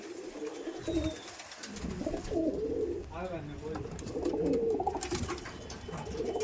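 Madrasi pigeons coo in soft, repeated rolling calls at close range, with some background voice and outdoor ambience around them.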